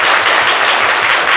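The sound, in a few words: studio audience applauding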